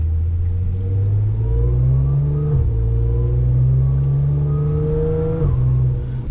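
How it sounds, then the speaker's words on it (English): A supercharged car engine drones steadily as it drives, with a raspy exhaust note from the mufflers that rises in pitch, drops at a gear change, and climbs again. "There's a little bit of rasp coming from the back, those mufflers."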